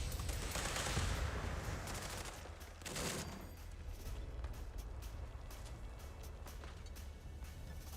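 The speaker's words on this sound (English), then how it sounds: "he's got a glitch Gatling" A Gatling gun firing in Fallout 76, bursts of rapid automatic fire that are strongest early on and then continue as a quieter, steady rattle with game ambience and no talking.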